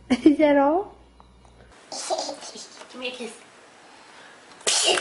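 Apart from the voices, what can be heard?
child sneezing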